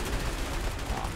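A dense, noisy rattle of gunfire fills a brief moment in the game A Way Out, loud and continuous with no clear gaps between shots.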